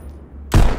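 A single sudden loud gunshot bursts out after a quiet moment in the VR rhythm shooter Pistol Whip, close and heavy with a broad blast.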